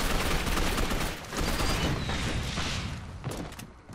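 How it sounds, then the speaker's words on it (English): Loud, close explosive blasts and rapid fire in Gotham City Impostors, a rocket launcher firing three rockets amid dense gunfire, the bursts blurring together and tailing off. "I love the rocket launcher with three rockets."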